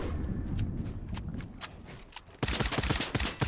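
Rapid gunfire in the Fortnite video game, scattered sharp shots at first, then a dense, louder burst of quick repeated cracks toward the end.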